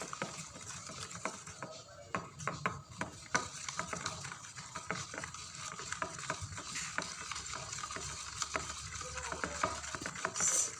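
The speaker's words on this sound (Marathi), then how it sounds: "गूळ टाकूया आणि मग पुन्हा फेटून घ्यायचं" Whisking a mixture after jaggery is added, a steady run of soft stirring and patting taps against a bowl in a home kitchen, close and continuous with faint background noise.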